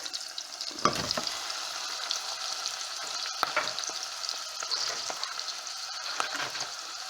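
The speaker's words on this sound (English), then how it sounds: "Just continue stirring it until it's like half cooked." Pork pieces frying in a pan after caramelizing, a continuous close sizzle with repeated scraping stirs and knocks of the utensil against the pan, no talking.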